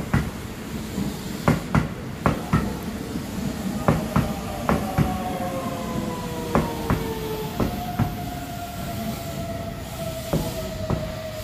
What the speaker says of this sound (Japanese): 電車がね、今入ってきましたね。